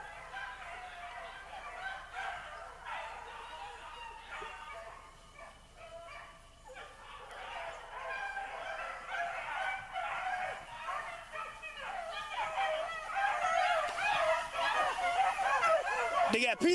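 Hunting dogs baying and yelping while running a rabbit outdoors, a continuous chorus of distant, overlapping bays that grows louder toward the end.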